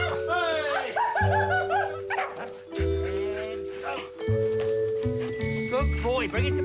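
A performing dog barks and yips excitedly in quick, loud bursts close by, while people talk over it.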